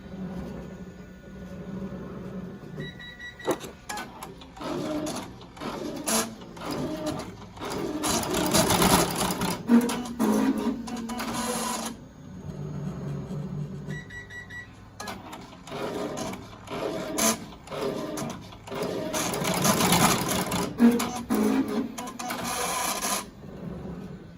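A Melco embroidery machine stitches a fabric mask in long runs of rapid, steady mechanical chatter, pausing briefly between bursts and restarting, loud and close with no talk.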